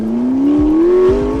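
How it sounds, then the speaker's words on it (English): McLaren 12C supercar rolling over a rough patch of road, its steady engine drone rising slightly in pitch with a few dull low thumps from the impacts, heard from onboard. "Let's run the 12C over a rough patch of road."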